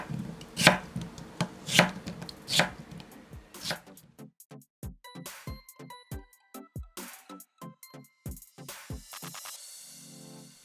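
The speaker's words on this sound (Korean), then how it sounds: "반을 갈라서 1cm 두께로 썰어줍니다" A knife chops halved old cucumber into 1 cm slices on a cutting board. A few heavy thuds come first, followed by a quick, even run of crisp, close taps.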